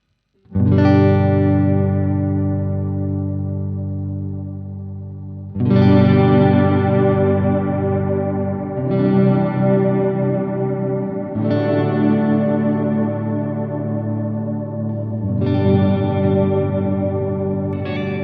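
Guitar chords ring out one after another through a Neunaber Seraphim Mono Shimmer pedal, each swelling into a shimmering, octave-up reverb wash that sustains and slowly fades.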